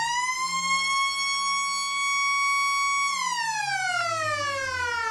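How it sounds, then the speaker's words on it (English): A football ground siren at Eastern Oval, Ballarat, sounds for quarter time in one long, steady wail that slides downward in pitch as it winds down. "Siren sounds for quarter time here at Eastern Oval"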